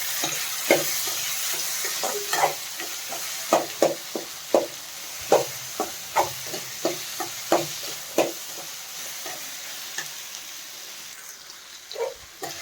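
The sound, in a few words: frying mint and coriander for avarekalu curry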